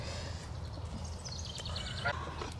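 Dumped geese in a garden with raised beds give a few honks at a distance, quiet and nasal over a low background rumble.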